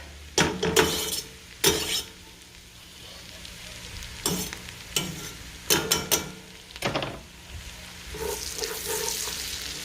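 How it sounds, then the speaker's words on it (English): Garlic sizzles in a pan for loaded baked potato soup, a low steady fry broken by repeated sharp scraping stirs and clatters, close and without speech. "And now I'm going to go ahead and add our garlic"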